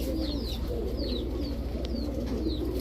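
Army breed pigeons coo in a low, steady murmur close by, with quick high chirps scattered over the top and no talking.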